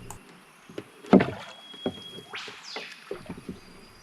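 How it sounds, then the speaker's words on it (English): Oars splash and knock against a small boat being rowed downstream on the Noosa River. The strokes come as a few irregular, close splashes and creaks against quiet surroundings. "I'm rowing downstream to find somewhere to tie up to the riverbank where I can set up camp on board Moonlight for the night"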